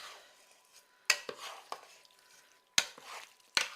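Creamy chicken penne pasta stirred in a pan, a few sharp clinks and scrapes of a utensil against the metal spaced by quiet gaps, with a soft background hiss, close and without talk.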